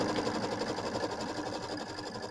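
An embroidery machine quilts a block in a hoop, its needle running in a steady rapid mechanical hum, close and continuous throughout.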